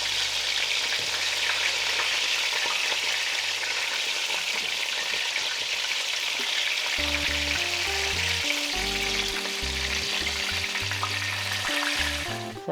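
Eggplant slices fry in hot oil, a loud, steady close-up sizzle and crackle running throughout, with soft background music joining partway.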